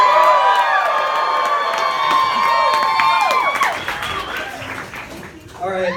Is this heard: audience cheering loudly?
yes